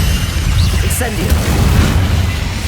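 An Incendio fire spell is cast in the Hogwarts Legacy video game, a loud low rumbling burst of flame that roars steadily throughout with a voice heard over it.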